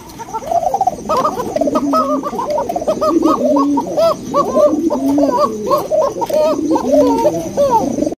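Several pigeons on a pigeon farm coo continuously in overlapping, throaty burbling calls, close and fairly loud, with no talking.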